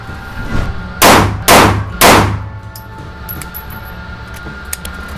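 Three sharp pistol shots fired at a steady pace while zeroing a red dot sight at an outdoor range, loud and close, followed by faint metallic pings and quiet background.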